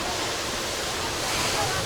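Water sprays steadily from a fountain at Expo Dubai, a dense, even hiss of falling and splashing water heard up close, with no break over the short stretch.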